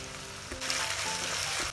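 Ginger garlic paste dropped into hot oil and ghee with mustard seeds, cumin and onion for masala rice, a soft hiss that jumps to a steady, close sizzle.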